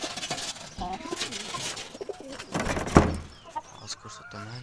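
Pigeons coo and flutter close by in a loft where a pair has laid eggs, with soft guttural calls and rustling among background chatter and a sharp knock.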